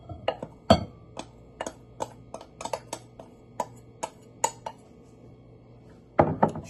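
A spoon or whisk clinks against a mixing bowl while flour is stirred for a classic vanilla cake, giving a run of sharp, close, irregular taps and scrapes with no talking.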